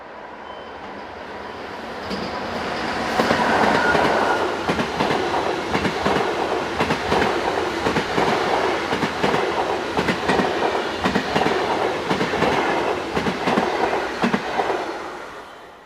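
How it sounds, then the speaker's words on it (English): A Swiss Class 460 intercity express train passes non-stop, a broad rushing roar with rhythmic wheel clatter that swells after a couple of seconds and holds steady before fading at the end. "Non-stop intercity expresses were passing through about every 10 minutes or so."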